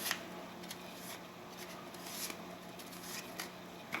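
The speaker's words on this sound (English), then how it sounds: "Put those down, give that a little shuffle." A deck of playing cards is shuffled during a beginner magic card trick, with soft, quick riffling and light card clicks at close range, faint and without speech.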